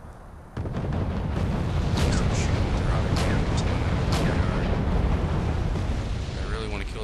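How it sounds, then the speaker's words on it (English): Artillery fire and explosions in the video game Wargame: European Escalation make a dense, continuous rumbling barrage with scattered sharp blasts, loud and sustained, while someone talks over it. "Artillery's making them panicked."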